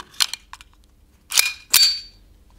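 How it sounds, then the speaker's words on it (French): A Colt 1911 blank pistol fitted with a .68 rubber ball adapter fires sharp cracks: two quick shots, then two more louder reports about half a second apart. "maintenant on va faire l'essai avec le Colt 1911 avec l'adaptateur en .68. Munitions à blanc"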